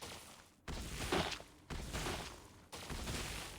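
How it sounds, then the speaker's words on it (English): Cannon firing in a Genshin Impact minigame, three heavy booming blasts about a second apart, each with a rumbling, crackling tail, fairly faint with no talk. "I hate this cannon."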